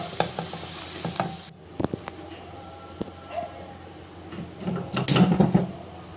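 Spoon stirring ground coconut mixture into cooked snake gourd pieces in a pan, with soft scraping strokes, a few clinks and knocks, and a light sizzle beneath, loudest near the end.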